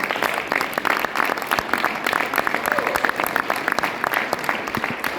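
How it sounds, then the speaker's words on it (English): A seminar audience applauds steadily in a dense, even wash of clapping that carries on loudly without a break. "We must really give Riway a big round of applause"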